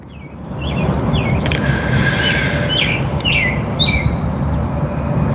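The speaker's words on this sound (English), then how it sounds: "I hope you guys can hear the birds." Several birds chirp outdoors in short, bright tweets repeated every second or so, carried over a steady, loud rumbling background.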